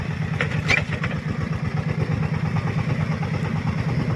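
An agricultural sprayer's engine runs steadily, up close, with a continuous low throbbing drone and a faint rattle. No talk is heard over it.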